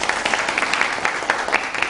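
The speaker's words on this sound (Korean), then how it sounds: "박수 부탁드립니다" A brief burst of audience clapping at a Korean literary concert welcoming a poet to the stage, crisp, dense and even, lasting under two seconds.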